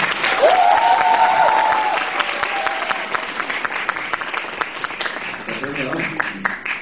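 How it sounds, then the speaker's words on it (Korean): An audience applauds as a countertenor is introduced, clapping heard under a held, sung or spoken voice and later mixed with brief talk. "박수 한번 부탁드니다"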